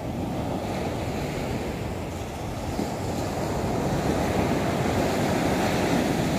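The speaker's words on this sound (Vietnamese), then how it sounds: "Tại vì sóng hôm nay sóng biển rất là lớn luôn nên ít người tắm lắm mọi người" Large waves breaking and surging along the beach at Nha Trang, a steady loud rumbling roar of surf mixed with wind buffeting the microphone, continuous throughout with no voices.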